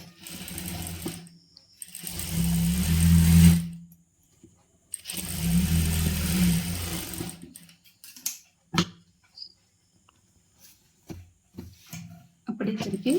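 A domestic sewing machine stitches two chudidar pieces together in two loud sustained runs, then stops, leaving scattered clicks, fabric handling and small knocks nearby.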